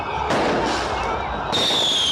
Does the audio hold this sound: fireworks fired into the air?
yes